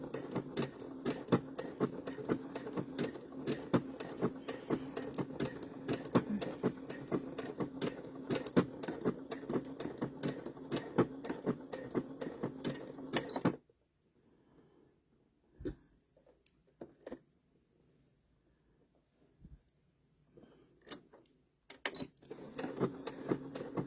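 A sewing machine runs in a steady, fast mechanical patter for about thirteen seconds, then stops, leaving near silence broken by a few faint clicks and taps before a brief restart at the end.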